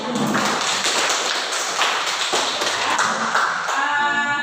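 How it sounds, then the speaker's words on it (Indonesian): A classroom of students applauding a group after their presentation, dense steady clapping from many hands that fills the whole stretch, close and loud, trailing off at the very end. "kita berikan aplaus pada teman kita di kelompok yang"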